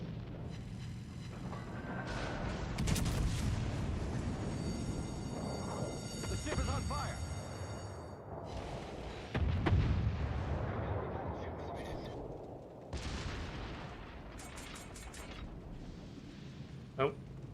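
Naval guns fire in World of Warships Legends in several heavy booming salvos over a continuous rumbling game soundscape, while a player talks throughout.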